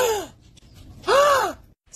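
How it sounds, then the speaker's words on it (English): A person gasps dramatically at a dog in two breathy bursts, close to the microphone, with a short pause between them and no words. "Gasp at your dog and see what they do."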